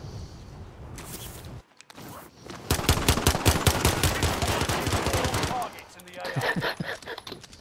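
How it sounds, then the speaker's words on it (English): Rapid automatic gunfire from Call of Duty Warzone, a dense burst of rattling shots that stops and restarts, with a brief gap and some talk around it. "Oh, he's both shooting at each other."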